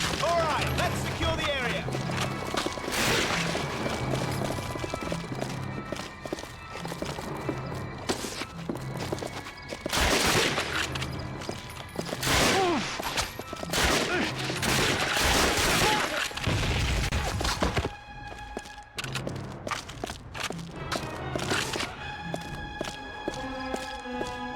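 Call of Duty: Finest Hour gunfire on hard mode in a Western Africa campaign mission, with repeated bursts of shots and booming impacts amid dense battle noise and a person talking over it.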